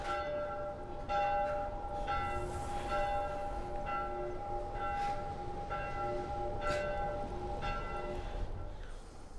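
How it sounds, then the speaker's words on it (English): Church bell tolling in The Last of Us, a slow series of resonant strikes with long ringing overtones, moderately distant and set against a low rumbling ambience. "It's gotta be a church bell"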